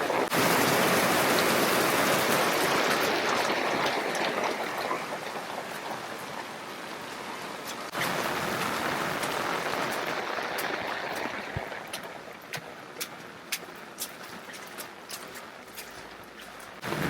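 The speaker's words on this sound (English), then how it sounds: "So, heavy rain." Heavy rain pours over a traditional village in Penglipuran, Bali, a dense, loud hiss that eases slightly midway, with scattered close drips and patters toward the end.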